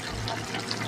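Water pours into a pan of cooking potatoes and snake gourd for a Bengali alu posto dish, a brief steady splashing gush heard up close.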